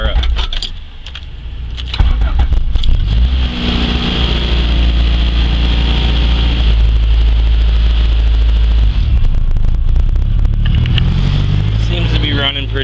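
A 400hp race Honda Civic engine runs just after start-up, giving a steady, loud, close idle with a deep throb and a rough, rattly edge that holds for the whole stretch.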